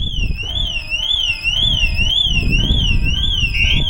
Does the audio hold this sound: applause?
no